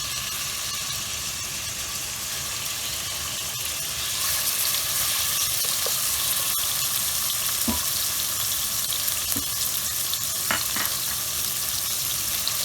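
Pieces of meat fry in hot olive oil with a steady, fairly loud sizzle. The sizzle swells a little partway through, with a few sharp pops and utensil clicks scattered over it.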